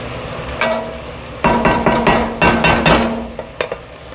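Red wine cooks down in a pan with steady sizzling, broken by bursts of scraping and stirring as a utensil works the pan. The sound is close and clear, with no talk.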